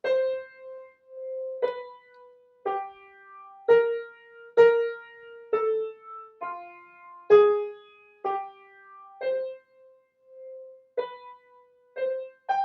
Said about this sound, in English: The melody is going to be imitated and starts in the soprano.